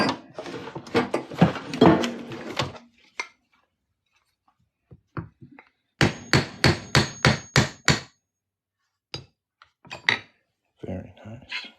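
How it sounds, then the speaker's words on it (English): A hammer drives a half-inch punch through a silver Arkansas quarter on a bench, a run of about seven sharp ringing metallic strikes in steady rhythm, with scattered taps and clatter before and after and talk early on. "so you can hammer it on through."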